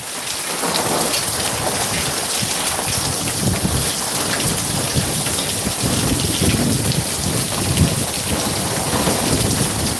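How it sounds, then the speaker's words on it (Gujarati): Heavy rain pours steadily with rumbling thunder during a storm, loud and continuous throughout with no voices. "વરસાદ છે એવું"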